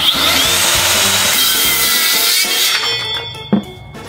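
An Osuka cordless circular saw cuts through wood with a loud, close whine and grinding bite. It then winds down, with a sharp knock near the end as the cut finishes.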